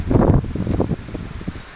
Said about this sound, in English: got a little wind